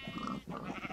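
Sheep bleating in the Minecraft video game, a dense, continuous nasal bleat running through the whole second at moderate loudness with a brief dip midway, no talk over it.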